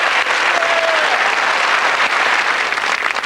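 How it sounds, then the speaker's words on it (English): Studio audience on a TV game show, a Cluedo broadcast from 1992, breaks into loud, steady, close applause that fills the whole stretch without any talk. "So, a big round of applause to both teams"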